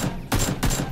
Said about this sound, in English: There's someone shooting at me.